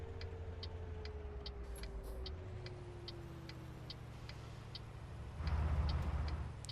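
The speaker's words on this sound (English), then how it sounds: "Indicators are slow" Turn indicator ticking steadily in a Kamaz truck in Euro Truck Simulator 2, a regular, moderately loud click repeating about twice a second over a low engine drone, with no talk.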